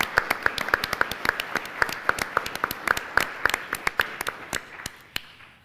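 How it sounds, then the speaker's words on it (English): Scattered audience applause at a sport forum honouring Olympic athletes, with distinct individual claps in a loose, uneven rhythm that thins out toward the end. "I think we should give them a round of applause."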